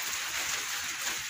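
Steady rain pours down on a garden with flower pots and rocks, a continuous close hiss with no pauses and no voices.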